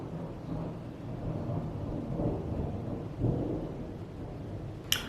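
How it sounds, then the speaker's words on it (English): Low, distant thunder rolls through a steady wash of rain and outdoor noise, swelling in a couple of soft rumbles without any close crack. "that's thunder."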